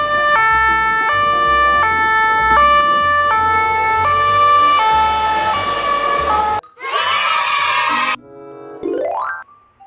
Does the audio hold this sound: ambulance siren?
yes